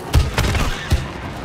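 Rapid bursts of gunfire in the video game It Takes Two, a few sharp close shots in quick succession with a brief gap before a final blast.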